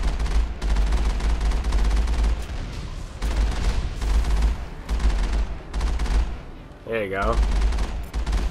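Heavy turret gunfire in Mass Effect, sustained booming bursts of rapid shots that pound on almost without pause, with brief gaps between volleys, while someone talks over the din.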